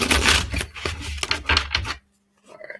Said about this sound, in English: I'm gonna shuffle it back in because that was a decent amount of cards that fell out.